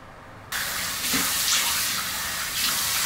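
Water suddenly gushes from a household tap after a brief quiet moment, then runs in a loud, steady rushing stream that swells slightly near the end.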